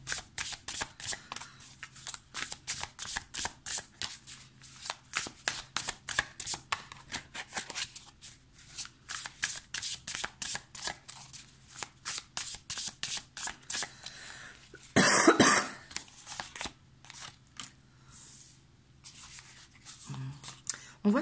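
Tarot cards are shuffled by hand in rapid riffling bursts, close and crisp, repeating steadily for about twenty seconds with one louder rustle partway through.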